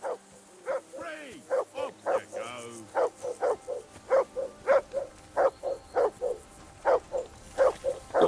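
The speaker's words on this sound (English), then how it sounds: "That barking was a pain in the ass." A dog barks in the video game Kingdom Come: Deliverance II, giving close, steady barks at an even rhythm for the whole stretch, with brief voices near the start.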